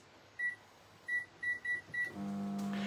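Microwave oven with quinoa inside a Tupperware pasta maker: five short electronic beeps as the timer is set, then the oven starts with a steady hum and low drone, close and fairly quiet.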